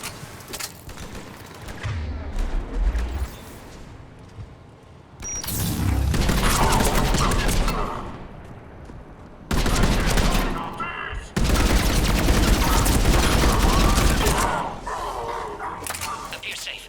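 Gunfire in Mass Effect 3, bursts of rapid shooting in several loud stretches mixed with explosions and game effects, while in-game voices talk over the battle.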